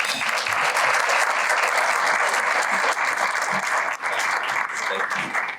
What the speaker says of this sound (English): a round of applause for Congressman Seth Moulton